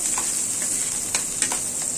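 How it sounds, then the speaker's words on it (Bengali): Onions and green chillies fry in oil in a thin frying pan, giving a steady, loud hiss of sizzling with a few soft stirring scrapes and no speech. "পেঁয়াজটা লাল করি"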